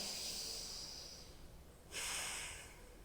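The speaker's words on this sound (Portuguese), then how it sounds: "faz o barulhinho no nariz." Two rounds of airy nasal breathing during Ashtanga yoga, a longer exhale fading out then a sharper inhale, close and quiet with no talking.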